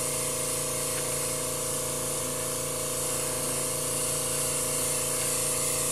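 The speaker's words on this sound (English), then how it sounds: "this does make a lot nicer clouds this way with an airbrush" An airbrush sprays paint onto a painted backdrop of clouds, producing a steady, close hiss over a low compressor hum that holds unbroken for the whole stretch.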